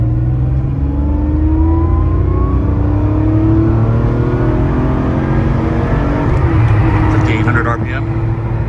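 A 1984 Porsche 911 Targa engine pulls hard through second gear on an open road, its rising drone climbing steadily in pitch under wind noise inside the cabin.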